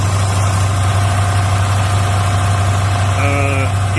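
Mitsubishi Montero with 250,000 miles idles steadily up close, a loud continuous engine drone with a deep low hum, and a brief whine-like tone rising near the end.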